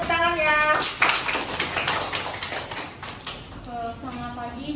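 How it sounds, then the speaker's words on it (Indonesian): A school class breaks into a burst of scattered applause lasting a few seconds, with a teacher's voice heard before and after it. "Berikan tepuk tangan ya."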